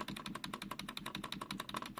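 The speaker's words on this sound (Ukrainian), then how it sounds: "Порівняємо звук цієї клавіші" Rapid, evenly spaced presses on a single key of a Defender Balance LQ keyboard give about twenty sharp, close plastic clicks in quick rhythm, faint and alone.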